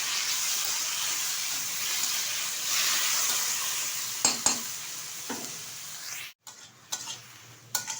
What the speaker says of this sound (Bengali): এখন দিয়ে দেবো এর মধ্যে 1 আঁটি কুলেখাড়া শাক, আমি কেটে ধুয়ে পরিষ্কার করে নিয়েছি। নেড়ে চেড়ে নেবো বেগুনের সাথে।